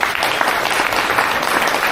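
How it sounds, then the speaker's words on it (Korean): Wedding guests give a loud, dense round of clapping to welcome a friend's congratulatory song, a steady crowd patter that holds evenly for just under two seconds. "다시 한번 큰 박수로 우리 축가를 청해보도록 하겠습니다"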